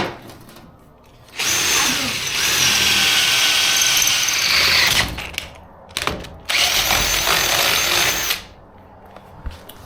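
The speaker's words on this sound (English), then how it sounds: "Now we're drilling a hole in the pieces of metal that just got cut off." A loud power drill whines in two long bursts, drilling through pieces of cut-off metal, revving up and grinding, with a short pause and clatter between them.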